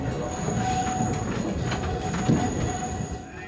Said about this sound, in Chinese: 如今小火车终于再度从奋起湖站启程